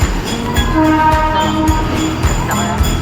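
A train runs at a railway station near Panvel, rumbling loud and steady with tonal horn-like and wheel sounds, close and continuous for about three seconds.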